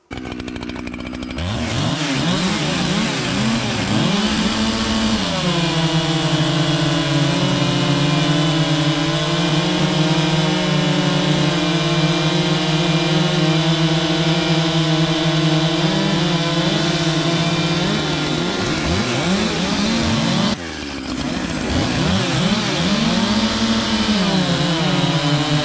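Echo, Husqvarna and Holzfforma chainsaws run one after another, each winding up to a loud, sustained high-pitched whine. One engine drops back briefly before revving up again, and no one speaks.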